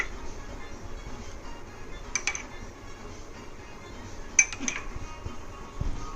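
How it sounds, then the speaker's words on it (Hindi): Soaked chia seeds spooned into an oats mango smoothie, a few light clinks of a spoon against a glass or bowl, soft and close, with quiet kitchen background. "ये चिया सीड जो सोक करके रखी हुई थी मैं इसको ऐड करूँगी"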